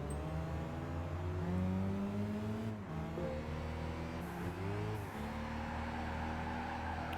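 A race car engine in Gran Turismo 5 drones and revs steadily, its pitch climbing and dropping through gear changes, with other cars audible around it while drifting on track; loud and continuous with no talking.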